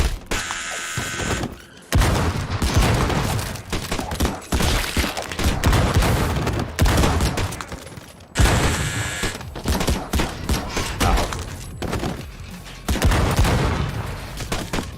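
M1 Garand rifle fire in a video game, loud repeated volleys of shots mixed with mechanical clatter, coming in several bursts separated by brief gaps.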